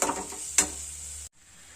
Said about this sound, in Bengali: এইটাকে ভালো করে নেড়ে চেড়ে এটাকে কষাতে হবে